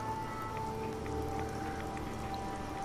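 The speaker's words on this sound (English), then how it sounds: "It's sort of gloomy, raining, misty, hazy." Steady rain falls in the misty, gloomy Far Harbor area of the video game Fallout 4, a continuous even hiss with faint scattered drop patter, constant level throughout with no talking.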